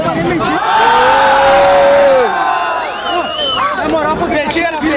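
Fans at a 2014 rap battle in Pinhais roar, whoop and cheer loudly up close, a dense wall of shouting voices that swells and then settles into scattered calls.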